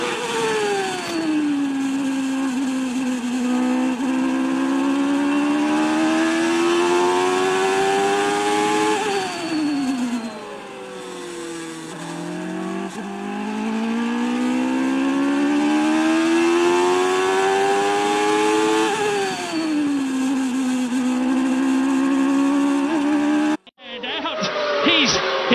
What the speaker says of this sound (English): We're in car now, listen to the engine.